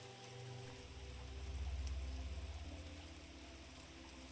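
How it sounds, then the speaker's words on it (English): Steady, quiet rain falls in a still, natural setting, a soft continuous patter with a low rumble swelling midway and a few faint drips standing out, no voices. "just the sound of the rain"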